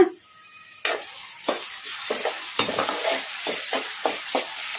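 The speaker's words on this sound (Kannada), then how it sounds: "ಈ ಥರ ಕಲಿಸ್ಕೊಂತ ಫ್ರೈ ಮಾಡ್ಕೊಂಬಿಡೋಣ" Finely chopped onions fry in hot oil for chicken fry, a close sizzle broken by repeated spatula scrapes and stirs in an uneven rhythm.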